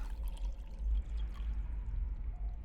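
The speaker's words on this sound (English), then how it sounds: "I fill the pot with water and..." Water poured into a simple clay pot in a point-and-click horror game, a soft low gurgling pour that runs steadily for a few seconds with no voice over it.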